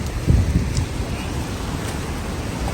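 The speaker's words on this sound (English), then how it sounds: "It's raining out." Cold rain falls steadily outside on a freezing day with snow piles around, making a continuous soft hiss with a few low thumps near the start.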